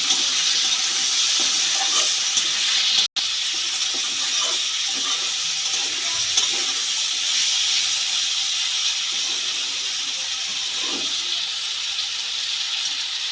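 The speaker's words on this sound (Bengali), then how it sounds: "হলুদ লবণ দিয়ে আলু আর পেঁয়াজটাকে ভালো করে ভেজে নিচ্ছি" Potatoes and onions fry in a pan with turmeric and salt, producing a loud, continuous hissing sizzle with a brief dropout partway through and no voices.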